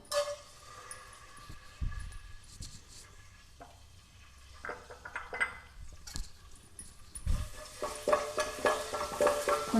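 Tempering spices hit hot oil in a pot on the stove, giving a crackling sizzle with scattered pops and clinks of a utensil, growing louder and busier toward the end.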